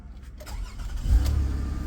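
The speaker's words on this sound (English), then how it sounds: "Start the car." A 2008 Toyota Camry engine starts with a brief low crank and catches into a steady, fairly loud idle rumble near the car.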